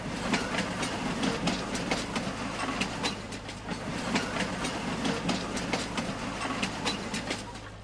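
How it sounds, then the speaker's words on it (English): A loud train rolls past steadily in a farming video game on PS5, with continuous rumbling rail noise and repeated clickety-clack wheel beats throughout, no talking. "Train is very loud."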